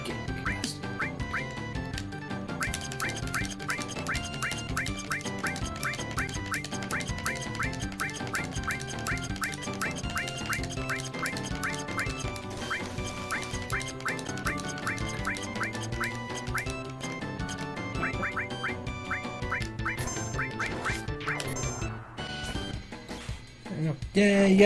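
Chocobo calls in the video game Final Fantasy 7: rapid repeated quacking squawks in a steady rhythm over game music for about twenty-five seconds, fairly loud and continuous.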